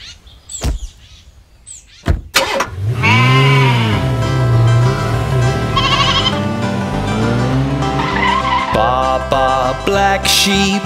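Sheep bleating loudly and close by, several long wavering calls in succession, with a couple of sharp knocks just before them.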